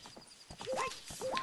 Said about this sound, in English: That CG horse jump is so shit.